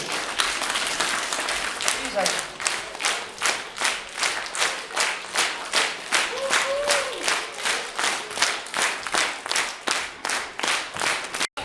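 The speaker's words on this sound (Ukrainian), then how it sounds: "Ваші оплески." Steady crowd applause at a charity concert, a dense run of rapid hand claps that holds at an even level throughout before cutting off abruptly at the end.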